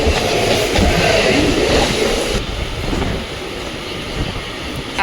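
Continuous rumble and rush of a moving Mumbai local train, loud and close, with a slight drop in intensity midway and faint clatter.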